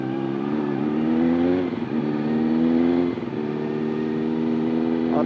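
Loud, steady superbike engine roar up close, held at high revs with two brief dips in throttle.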